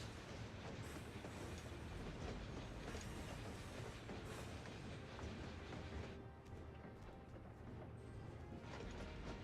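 A train in a video game runs on rails with a continuous, loud rumble and rhythmic clickety-clack. Faint wheel squeals rise over it, and it keeps going steadily with no talking.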